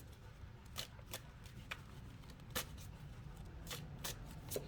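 Tarot cards being shuffled by hand, a steady soft riffling with several sharper snaps standing out over low background hum, quiet and close.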